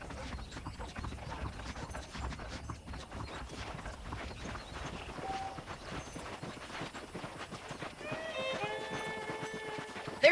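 Horses walk in the Red Dead Redemption video game with a steady, close clip-clop of hooves over a busy game ambience. A brief tonal musical cue enters near the end.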